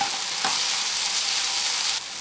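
Kashmiri red chilli powder and ground spices fry in a pan with a steady, close hiss of sizzling oil that drops slightly near the end, with no talk.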